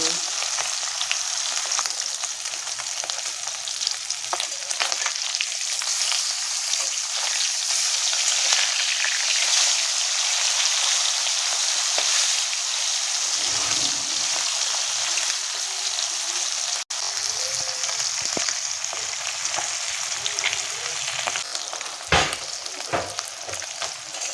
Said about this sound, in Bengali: এখন মাছ দিয়ে দিচ্ছি। ভালো করে লাল লাল করে ভেজে নেব।